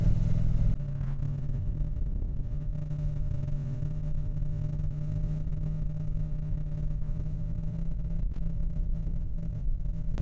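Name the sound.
Triumph Street Twin motorcycle riding a winding mountain pass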